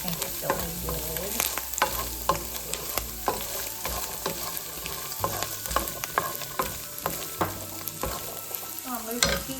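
Chickpeas fry and get stirred in a pan, with a steady sizzle under frequent scraping and clacking of the utensil against the pan. No one speaks.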